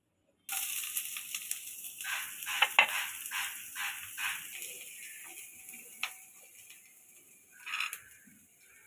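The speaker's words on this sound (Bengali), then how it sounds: "পেঁয়াজ দিয়ে দেবো তেলের মধ্যে।" Onions dropped into hot oil in a home kitchen sizzle and crackle in uneven bursts, with scattered utensil clinks and stirring scrapes, close and without talk.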